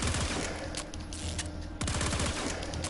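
A weapon in the Warframe video game fires rapidly in a dense, continuous burst, with a brief lull before the heavy gunfire resumes.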